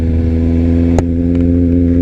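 Kawasaki Z1000 motorcycle under acceleration, a loud, steady engine drone with strong low harmonics that holds an even pitch throughout, briefly punctuated by a sharp click or wind buffet midway.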